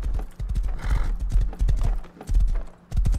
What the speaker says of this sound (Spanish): qué rápido ese caballo tuyo